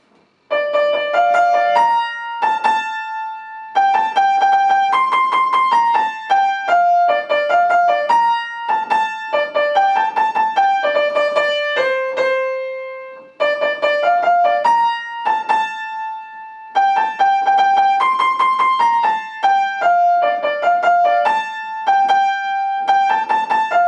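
A bright piano melody plays the chorus of a song, single notes in repeated rhythmic phrases with short pauses between lines, clear and close.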